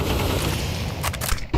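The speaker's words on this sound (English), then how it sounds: "as I think that Molotov just blew up in the sky." A Molotov bursts in midair during a professional Counter-Strike match at IEM Cologne 2024, short crackling pops and a muffled burst over dense, continuous game noise.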